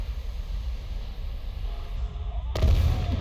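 Brimstone missiles launching from an FGR.4 jet in the War Thunder combat game, heard as a steady roaring rumble that swells into a sharp, louder burst near the end, with no talk.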